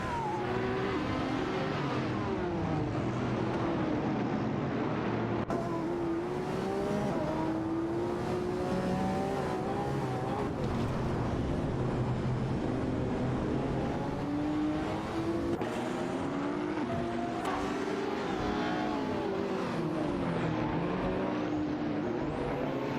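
Ariel Atom 500 race cars in a racing video game scream along steadily, engine pitch sweeping up and down through shifts, with several cars overlapping and passing nearby, loud and constant with no voices.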